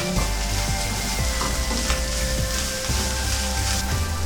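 Chicken sautéing for fried rice, a loud dense sizzle with a steady hum and occasional stirring knocks throughout.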